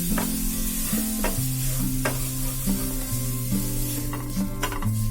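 Something fries in hot coconut oil with a steady, close sizzle and occasional stirring scrapes, while sustained musical tones play underneath throughout.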